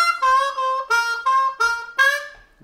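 An Eb harmonica plays a blues lick from a song as a handful of reedy bent and sliding notes in short detached chunks, close and clear, fading at the end.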